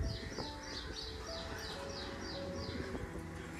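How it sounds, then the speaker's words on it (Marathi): Birds calling near a quiet temple by a creek, a regular series of short high chirps repeating about twice a second, faint and somewhat distant over a low ambient outdoor hum. "बघा कसे पक्षी ओरडत आहेत."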